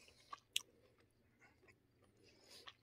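Close, quiet chewing of a T-bone steak outdoors, with a few soft wet bites and one sharper crunch early on, then slow mastication noises over low background hiss.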